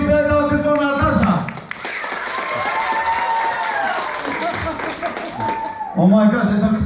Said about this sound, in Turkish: Applause, always ve alkış for Natasha.